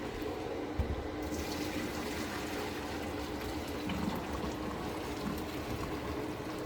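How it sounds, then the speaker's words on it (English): Hot cooking water from an oversized Thanksgiving pot pours steadily down a kitchen sink drain, a continuous rushing splash that holds roughly even from start to finish, with no voices. "So down the drain she goes."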